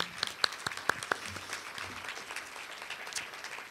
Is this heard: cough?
no